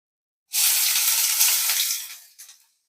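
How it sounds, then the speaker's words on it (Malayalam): Crushed ginger-garlic paste hitting hot oil in a pan for a Kottayam-style fish curry, a loud close sizzle that bursts in abruptly, holds steady for about a second and a half, then fades with a brief final flare. "ഇതിലേക്ക് നമ്മൾ ചതച്ച് വെച്ചിട്ടുള്ള ഇഞ്ചി വെളുത്തുള്ളിയുടെ പേസ്റ്റ് ചേർത്ത് കൊടുക്കുക"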